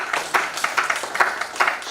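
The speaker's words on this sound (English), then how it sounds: "maybe she really deserves an applause for it." A few people clapping at an anniversary celebration, a short sparse run of distinct, close claps with uneven rhythm.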